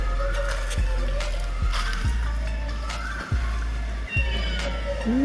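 Four young kittens meow indoors in a run of thin, rising cries, several overlapping calls spaced irregularly over a steady low background hum, close by and fairly clear.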